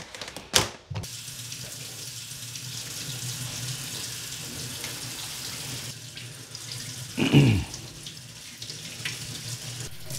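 Running water rinses Fujitsu split system air conditioner parts as a steady hiss, with a brief splash near the start and a louder gush about three-quarters through, with no talking.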